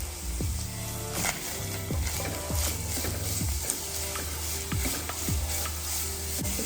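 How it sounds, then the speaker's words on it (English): Onions sizzle in olive oil in a pan over a gas flame, a constant bright frying hiss broken by repeated rhythmic scraping strokes of stirring, close and clear. "I'm adding some olive oil to start with. I am adding some onions to this."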